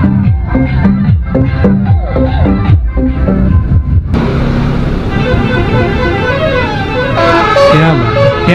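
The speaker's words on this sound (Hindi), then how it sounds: "ये म्यूजिक बजा रहे हैं लोग के हॉर्न सुपर है" Vehicle horns toot in melodic, musical patterns on a desert highway in Rajasthan, loud and close over road noise and the rush of a motorcycle ride.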